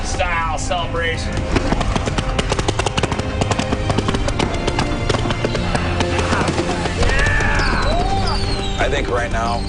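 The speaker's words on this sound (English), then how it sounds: "That's a lot of fireworks." Dense, continuous crackle and pops of fireworks going off through a loud outdoor celebration, with cheering voices and people talking over the bangs throughout.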